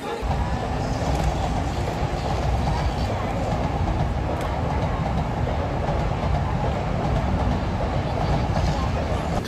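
A moving train in Tokyo, Japan rumbles steadily with a low, constant roar and faint rattling of the carriages, a continuous rolling noise heard from inside.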